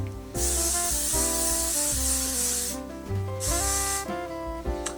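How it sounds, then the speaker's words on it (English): Hair spray hisses onto dry hair from about 30 centimeters away in two long, steady bursts, the first lasting over two seconds and the second shorter. Soft background music plays underneath. "Shake well, hold approximately 30 centimeters from the hair, apply a generous amount evenly all over dry hair"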